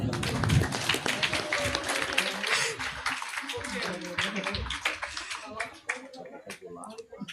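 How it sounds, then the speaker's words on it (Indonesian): Applause at a school report card ceremony, a dense crowd clapping steadily that fades out over about seven seconds. "Tepuk tangan."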